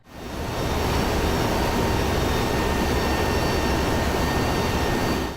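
Steady, loud drone of C-130 transport aircraft engines in flight, heard from inside the plane as a constant dense roar with no pauses or voices.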